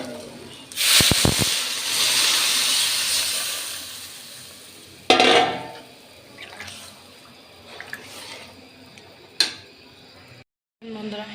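Water is poured into a pan of sizzling fried spices for a Bengali fish curry with potato and eggplant, giving a loud rushing hiss and bubbling sizzle that settles into a softer simmer with a few clinks and sharp knocks.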